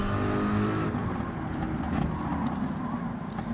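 Corvette race car in Gran Turismo 7 at Spa qualifying, engine accelerating with a steady droning roar that shifts pitch after a gear change, moderately loud and continuous with no voices.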